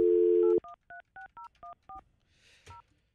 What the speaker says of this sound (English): I'm calling the cell phone now.